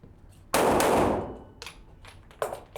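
A loud gunshot rings out at close range during a tactical shooting drill and decays over about a second. Fainter, sharper reports follow, with echoes from the surrounding environment.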